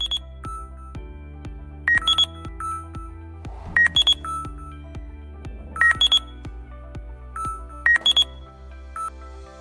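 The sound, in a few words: UIG ground scanner sound indicating a void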